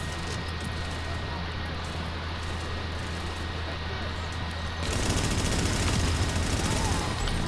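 Gunfire in the shooter game The Division: bursts of rapid shots over steady game noise, growing louder and denser in the final seconds.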